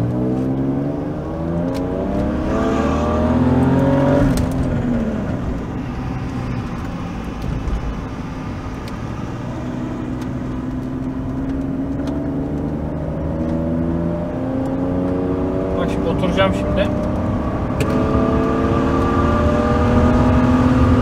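A BMW E39 528i engine revs hard and climbs through the gears, its note rising and dropping with each shift, loud and close throughout with no talking.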